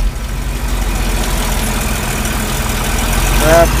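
On a 15°F morning, an engine idles steadily after a cold start. The low, even rumble is close and constant throughout, with a brief mechanical squeal at the very end.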